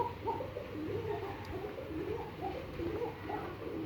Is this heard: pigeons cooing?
yes